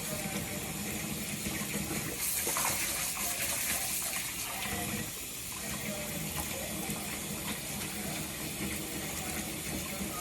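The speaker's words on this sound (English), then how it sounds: "And remember, rinse, rinse, rinse, rinse, rinse, rinse, rinse." Running water from a tap gushes steadily over a wig being rinsed in a sink, a continuous splashing wash lasting about ten seconds with no voices heard.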